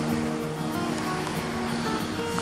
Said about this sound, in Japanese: 海にはゆったりとしたうねりは入ってますが、インサイドからショアブレイクですね。